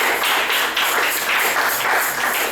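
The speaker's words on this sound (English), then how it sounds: "Clap, let's clap for Jesus." A church congregation claps during a prayer service, producing a dense, steady wash of many hands clapping at once. The sound is loud and continuous throughout, with no voices over it.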